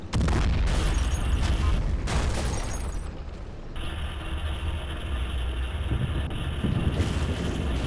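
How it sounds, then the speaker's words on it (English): Artillery fire rumbles through a WWII war video game battle near Küstrin, a constant loud roar of booming blasts and wind-like noise with a sharp burst early on, followed by a steady droning engine hum. "the artillery's opening up on them again"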